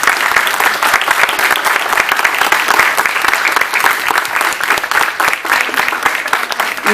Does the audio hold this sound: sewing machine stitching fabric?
no